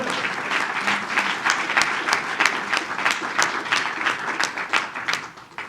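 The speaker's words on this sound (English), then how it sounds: "I'm just going to clap." An audience at a panel event applauds warmly, a dense burst of clapping that holds steady for several seconds before thinning out and fading near the end.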